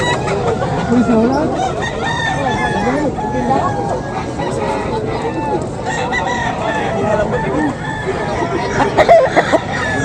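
Chickens and roosters at a Friday market in Bocaue, repeated crowing and clucking close by over a constant babble of shoppers and vendors talking.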